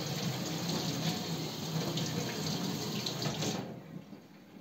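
A kitchen tap runs steadily to wash leeks, a continuous close gush of water that cuts off near the end, leaving quieter handling sounds.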